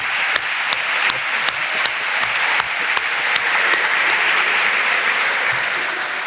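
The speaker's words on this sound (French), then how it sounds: "On applaudit les recteurs," A hall audience at an academic opening ceremony applauds the rectors, a steady, full wash of clapping with distinct closer hand claps punctuating it at a regular pace.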